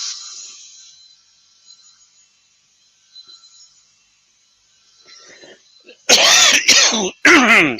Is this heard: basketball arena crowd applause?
no